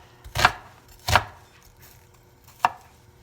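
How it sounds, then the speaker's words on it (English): A knife chops peppers on a cutting board in three distinct, crisp thuds. The first two come close together and the third follows after a pause. The chops are near and clear over a quiet background. "Just go with your tiny knife and cut it."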